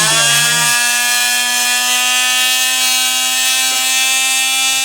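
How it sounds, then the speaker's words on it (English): A power sander grinds down lumps of JB Weld on a motor mount bracket, giving a loud, steady whine that runs unbroken for the whole stretch with no talking. "I'm gonna have to sand some of that down"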